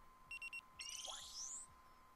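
An electronic alarm in the video game DMMd (DRAMAtical Murder) gives three quick, evenly spaced beeps, followed by rising chirping synth tones, all faint and alone.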